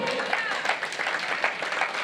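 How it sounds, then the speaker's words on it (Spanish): A church congregation gives a brief, strong round of applause during a sermon, a dense continuous clapping wash with faint crowd voices mixed in. "Dale un aplauso fuerte al Señor."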